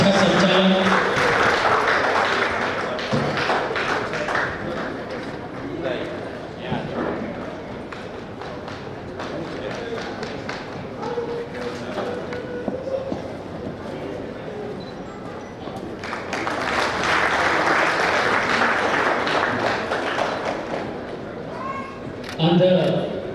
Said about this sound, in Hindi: कृपया तालियों की जोरदार स्वागत के साथ बहुत ही अच्छा संचालन।